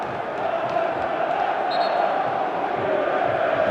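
A football crowd fills the stadium at a Bristol City versus Leeds United Championship match with a steady, dense murmur and low chanting, the noise holding evenly throughout.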